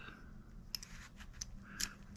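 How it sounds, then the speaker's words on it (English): Several quick metallic snips from spring-loaded scissors on a Maxpedition pouch tool, sharp and close, spaced irregularly over a low steady background hum. "here's your scissors. Yes, spring-loaded."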